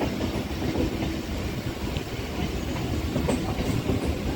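Riding aboard a Kolkata Circular Rail train, a steady loud rumble of wheels on track fills the air with rhythmic clickety-clack beats, continuous and close, without any voices.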